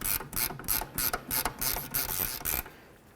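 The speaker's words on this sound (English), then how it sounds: "Now we're going to remove those bolts." A ratchet wrench loosens the rear brake caliper bolts on a 2007–2012 Nissan Altima, a close, loud run of rapid clicking strokes in a steady back-and-forth rhythm that stops near the end.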